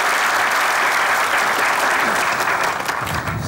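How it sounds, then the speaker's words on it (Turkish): Studio audience applause for writer Cihan Talay on a Turkish sketch comedy show, a dense, steady wash of clapping that holds loud throughout and thins slightly near the end. "Bir kere Cihan Talay'a bir alkış."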